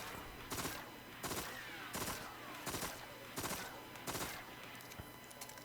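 Six evenly spaced gunfire bursts ring out during recoil testing, each a quick cluster of sharp shots at a slow, controlled rate of fire, moderately loud and standing alone.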